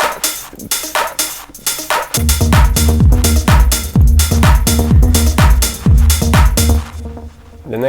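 A house beat loop plays loud and alone: crisp closed hi-hats and busy percussion tick steadily, then a deep kick thumps in on every beat after a couple of seconds, with short chopped vocal shots punctuating the groove.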